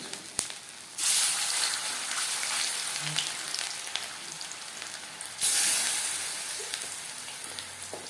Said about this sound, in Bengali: চার চামচ রিফাইন্ড অয়েল গরম করে নিয়েছি এবার দিয়ে দেব ম্যারিনেট করে রাখা মাছ